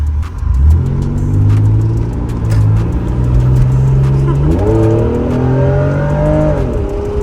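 A 1991 Acura NSX engine pulling hard under acceleration, its loud rising tone climbing steadily, stepping up sharply near the end and continuing to climb, with brief talk from occupants in the car.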